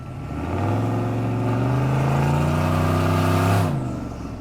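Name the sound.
squatted turbocharged truck driving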